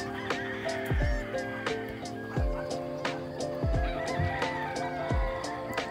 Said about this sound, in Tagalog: Tilaok ng mga manok.